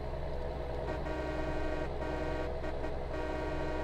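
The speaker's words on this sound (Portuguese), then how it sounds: "Vocês viram que mudou a buzina do 6J?" A heavy truck horn in Farming Simulator 2019 sounds in short repeated toots over a steady engine drone, loud and close, with no talking.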